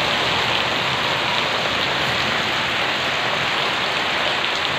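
Heavy rain pouring down during a Kalbaishakhi storm, a dense, loud, unbroken roar of drops with no other sounds.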